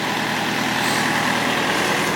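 A 2011 John Deere 1600 wide area mower engine, blowing black smoke, runs loudly and steadily up close, a rough mechanical drone with no pauses or voices.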